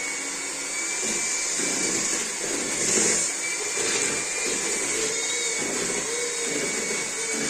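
An electric mixer whisking sugar for cookie dough, a steady high motor whine with slight rises and dips in load, close by and running the whole time without talk.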